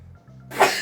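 A single sharp human sneeze bursts out after a brief quiet moment, close and loud.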